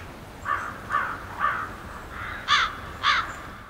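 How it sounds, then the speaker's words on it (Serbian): Hooded crows caw nearby, six loud harsh calls in an uneven series, the last two strongest, with no talking. "sive vrane."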